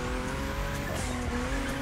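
A car engine roars steadily with some tire squeal in a racing video game on a mountain road, the tone echoing off the rock edge, loud and continuous with no talk.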